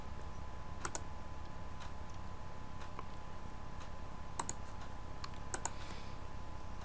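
Someone types card details on a computer keyboard while registering with a hosting service; sparse key clicks come in small clusters over a steady background hum, with no talking.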